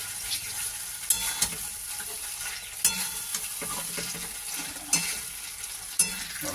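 Paneer cubes stirred and fried in a pan, a steady broadband sizzle with sharp spatula scrapes and clinks recurring every second or so, close and continuous with no talking.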